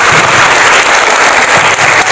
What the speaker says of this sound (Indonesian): Tepuk tangan guys buat Tuhan.